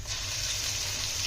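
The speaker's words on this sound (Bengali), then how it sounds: "দিয়ে দিচ্ছি আদা রসুনের পেস্ট," Ginger-garlic paste hits hot oil in a pan during broiler chicken biryani cooking, making a loud, close, continuous hiss with a low rumble beneath and no talk.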